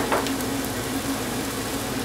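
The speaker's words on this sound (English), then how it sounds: "we're going to add the mushrooms, and this is about 4 ounces of mushrooms quartered, 1 cup of onions," Quartered mushrooms and chopped onions hit a hot pan for a stir-fried sesame steak, giving a steady, soft sizzle that holds evenly for a couple of seconds with no voices.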